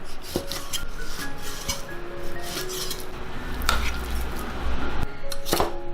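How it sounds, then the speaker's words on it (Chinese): A knife chops skinned pork belly into large chunks on a board, several sharp, distinct strikes spaced irregularly, close and clear with light kitchen clatter between them. "五花肉先把皮揭去，然后把它切成大块"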